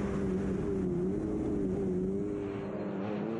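A Moto3 125cc racing motorcycle on the wet Cookstown 100 road course howls past in a continuous high-revving engine drone, loud and steady with slight pitch wavering, then easing a little at the end, with no talking.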